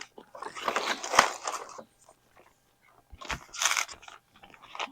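Close, wet chewing and crunching of a fruity, chewy snack in two bursts separated by a short pause, no talking.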